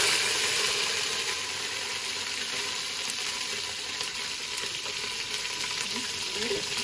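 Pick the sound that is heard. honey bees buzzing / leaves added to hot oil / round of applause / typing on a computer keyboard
leaves added to hot oil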